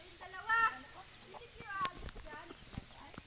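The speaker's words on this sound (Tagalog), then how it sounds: "Ito yung tandang." A rooster on a rural farm in the provinces clucks in a few short bursts, fairly faint, among other faint farmyard noises.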